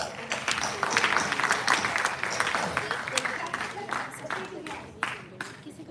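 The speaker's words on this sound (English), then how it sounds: "I believe that we can clap a little louder." Audience applause in a lecture hall at a management institute event, dense sustained clapping from a crowd filling the room at moderate loudness, with a few sharper claps near the end.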